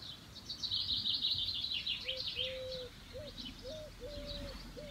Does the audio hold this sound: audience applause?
no